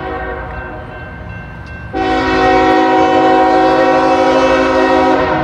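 A northbound freight train passes close by, its horn sounding in loud sustained tones over the steady rumble and rattle of the cars, swelling suddenly partway through and holding at full strength.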